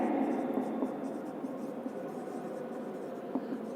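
A pen scratches steadily on paper while notes about pollen grains and ovules are written out by hand. The scratching is continuous and close, with a few sharper strokes, and a woman's soft speech runs over parts of it.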